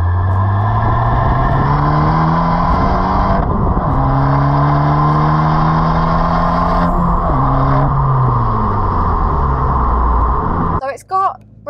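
A Fiat Abarth 595 Competizione pulls through several gears, its loud engine note climbing in pitch then dropping at each shift in a repeating rise-and-fall pattern, ending with a brief burble as it settles.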